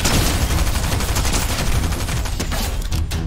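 Sustained rapid gunfire in a video game, a continuous dense rattle of automatic shots at steady volume, close and unbroken, with no voices over it.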